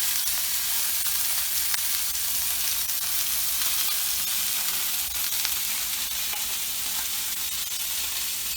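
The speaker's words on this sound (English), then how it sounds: "We're going to take these steaks, we sear them on each side for a minute." Steaks sear loudly in a hot pan, a steady bright sizzle that holds without pause from start to finish, close and unaccompanied by voices.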